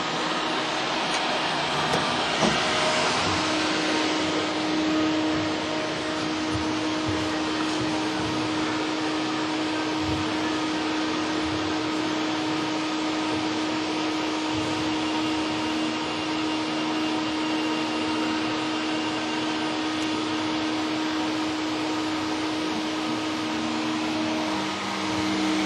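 A homemade 30 watt laser table runs with a continuous, even mechanical hum and fan-like whoosh, a steady drone with a faint tonal whine held at the same level throughout.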